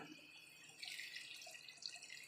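A little water is poured into a taro and tamarind curry in the pot, a soft, thin trickle with faint splashy bubbling, quiet and close, no voices.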